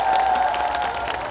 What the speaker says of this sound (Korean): 우리들의 필승 시너지 유세단을 힘찬 박수로 맞이해 주십시오